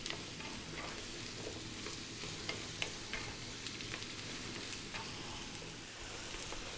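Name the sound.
vegetables sizzling and stirred in a pan for chili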